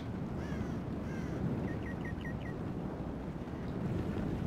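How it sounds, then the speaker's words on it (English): Crows cawing in a Total War medieval battle game, a few harsh calls followed by a quick series of short caws, heard over a steady wind-like ambient rush. "And you gotta love the sound of those birds."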